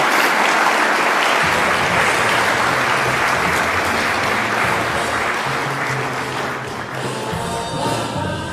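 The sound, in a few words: audience applause welcoming a speaker to the stage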